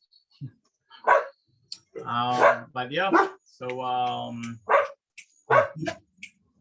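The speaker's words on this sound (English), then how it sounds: "sorry about the dogs." Dogs bark in a few short, scattered yaps in a quiet room, interleaved with a person speaking calmly nearby.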